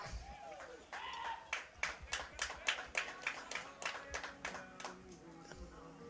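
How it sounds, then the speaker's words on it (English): Scattered hand claps from fans at a high school baseball game ring out in a loose, uneven rhythm of about a dozen sharp claps, with faint talk underneath. "And he gets some applause from the fans."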